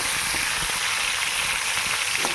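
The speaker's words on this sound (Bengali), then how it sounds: "এই পটল ভাজতে খুব সময় লাগে" Sliced pointed gourd (potol) fries in a hot pan, giving off a steady, close sizzle with soft crackles and no talk over it.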